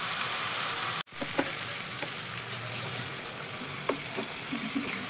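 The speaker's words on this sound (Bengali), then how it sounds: "এবার আবারও ভালো করে মিশিয়ে নিয়ে আমি সামান্য একটু জল অ্যাড করব" Okra cooking in mustard masala crackles and sizzles steadily up close, broken by a sudden brief dropout as a little water goes in, then a dense hiss with scattered pops and spatters.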